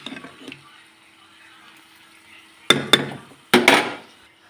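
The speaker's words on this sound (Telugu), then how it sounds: "ఇప్పుడు చికెన్ వేసేసుకోవడమేనండి" Chicken pieces go into a pan of fried masala gravy: a couple of sharp clatters and thuds, followed by a louder wet plop and sizzle against a quiet background.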